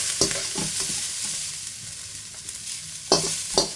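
Carrot and pepper strips stir-frying in a wok with beef and spaghetti nearby: continuous loud oil sizzle broken by several quick metal spatula scrapes and taps, close up, with no talking.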